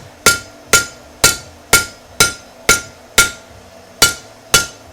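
A blacksmith strikes metal on the edge of an anvil in about nine steady, ringing hammer blows, each loud and sharp with a short metallic decay, close and alone without talk.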